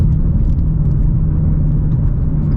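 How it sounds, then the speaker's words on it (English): A Ford Shelby GT350 V8 on its stock tune pulls hard through a no-lift shift, a loud, steady, throaty roar with no break in power, heard from inside the car with no talking. "that no lift shift on the stock tune is something else"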